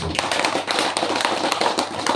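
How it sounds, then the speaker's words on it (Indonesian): An audience claps at an outdoor political speech, many hands striking in a brisk, uneven patter that carries on steadily and fairly close. "Tepuk tangan untuk kamu"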